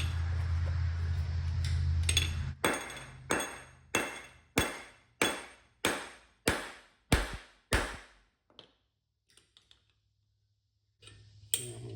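A rivet is hammered home on a Ford 501 mower: about ten sharp metallic blows land at a steady, quick pace, close and loud, each ringing briefly, with a low machine hum before and after the strikes.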